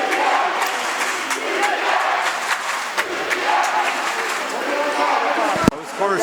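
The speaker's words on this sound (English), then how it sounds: "You hear the crowd getting into it." A basketball arena crowd at a men's wheelchair basketball world championship game between Italy and Turkey roars and cheers loudly and continuously, with shouts rising out of the din.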